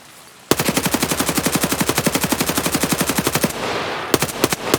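Automatic rifle fire from the shooter game Escape from Tarkov: a long, loud, rapid burst of evenly spaced shots, a short pause, then a few more quick rounds, with no voices.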